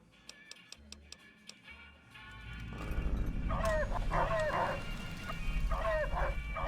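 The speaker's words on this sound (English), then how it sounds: "It's like the generic barking noise" A dog barking in the video game Fallout New Vegas, several short yelps in a row, then a louder run of repeated barks over a rising low rumble of background noise.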